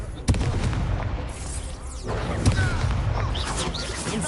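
In Hogwarts Legacy, a Confringo fire spell bursts with a sharp explosive crack followed by booming blasts, whooshes and crashing impacts amid chaotic combat effects.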